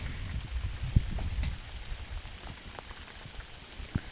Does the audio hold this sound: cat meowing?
no